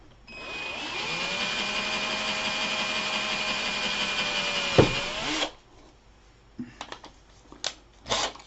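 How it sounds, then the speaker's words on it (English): A power drill with a 7/64 bit whines steadily for several seconds while boring through a part near an elbow fitting, close and clear, then stops, followed by scattered handling clicks and knocks. "If I drill that right there in the center, nice and close to the elbow."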